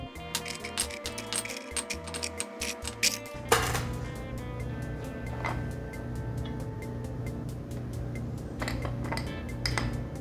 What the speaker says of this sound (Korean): 올드 패션 글라스에 큐브 아이스를 넣어줍니다.